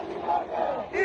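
A crowd at a street protest in Iran chants together, a dense unison roar rising and falling in short rhythmic phrases, fairly close and steady throughout.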